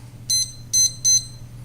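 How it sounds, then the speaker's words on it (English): Kitchen timer set for three minutes, carried out to a grill while bacon-wrapped filet mignon cooks, sounding three short, loud, high electronic beeps in an even rhythm over a low steady hum. "I'm going to set this timer for 3 minutes."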